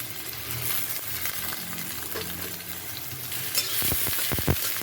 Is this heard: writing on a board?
no